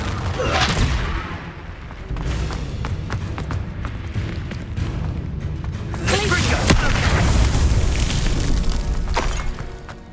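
Confringo blasting spell explosions in the Hogwarts Legacy video game, booming blasts and crackling bursts mixed with combat effects and background music, loud and dense across the whole stretch with a stronger surge near the end.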